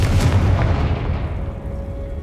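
The Confringo blasting spell from Hogwarts Legacy goes off as one heavy, booming burst that rolls out and fades over about two seconds.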